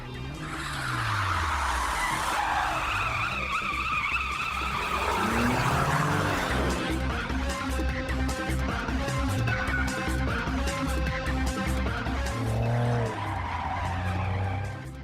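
A car driven fast, blindfolded, with tires skidding and squealing loudly and continuously over a roaring engine, set against dense background music for the full stretch.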